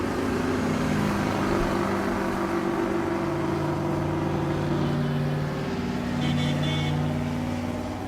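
Race cars rolling slowly down a drag strip at Tulsa Raceway Park during Race Week, a steady low engine drone with layered idling tones holding throughout, loud and continuous with no clear pass-by.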